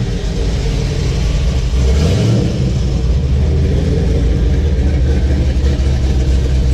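A loud Camaro ZL1 engine rumbles heavily, swelling in a rev around the middle before settling back into a deep, throaty drone.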